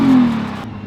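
A Nissan GT-R with its stock exhaust revs briefly, a loud, low engine drone that rises and then quickly fades within a second, heard alone.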